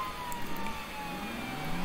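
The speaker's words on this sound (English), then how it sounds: "if they have their sirens on like that" Ambulance siren in the Roblox game Liberty County, a steady wailing tone with faint slow pitch sweeps under a constant vehicle rumble, heard alone at moderate distance without talk.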